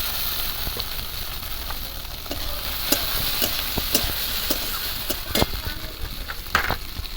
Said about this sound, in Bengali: ভালো করে ভাজা ভাজা হয়ে গেছে এবার দিয়ে দেবো টমেটো কুচি